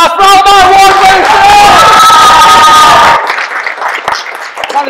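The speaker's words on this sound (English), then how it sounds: "let's give another big round of applause for all of our award winners!" An audience at an awards evening applauds winners, the clapping and cheering heard over loud music and voices, then it drops to a thinner crowd noise with scattered claps.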